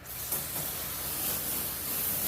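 Tire shine sprays onto a car tire as a continuous airy hiss, close and moderately quiet, lasting a couple of seconds without a break.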